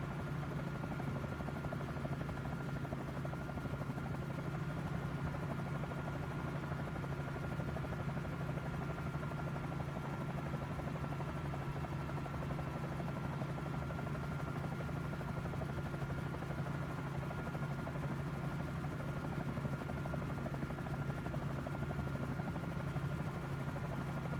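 A steady, droning Bell 47 J-2 helicopter engine in Microsoft Flight Simulator hums continuously with a low buzzing whir, constant in level from start to finish, with no voices.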